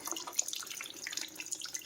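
Fluid draining out of a Volvo V70R during an intercooler install: a continuous, splashy trickle of liquid pouring and dripping close by, steady and unbroken throughout.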